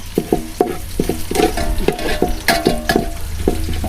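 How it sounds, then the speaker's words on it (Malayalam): Ginger, green chilli and onions frying in coconut oil, a close crackling sizzle punctuated by a regular series of metallic spoon scrapes against the pan, no talking. "വെളിച്ചെണ്ണ ഒഴിച്ചു കൊടുത്തു ഇഞ്ചി പച്ചമുളക് അതേപോലെ തന്നെ ഉള്ളി"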